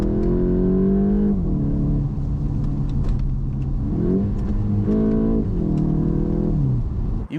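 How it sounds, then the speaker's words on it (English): Artificial engine sound piped into the cabin of a VW Golf GTI Mk8, a loud synthetic droning growl that rises and falls with several rev changes and gear shifts, steady and close with no talking. "all you get is this fake, cinematic, computer game pumped in sound"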